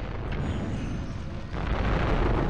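A dense, continuous rumble of explosions from a fireball attack in The Legend of Spyro: A New Beginning, rolling one into another, loud and booming, swelling slightly toward the end.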